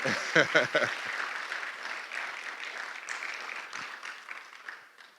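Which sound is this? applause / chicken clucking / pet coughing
applause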